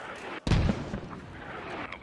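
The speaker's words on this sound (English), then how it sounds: "We are taking enemy mortars then." An enemy mortar round hits in the Squad video game, a single close, heavy boom that cuts in suddenly and rumbles off into a fading tail over quiet battlefield ambience.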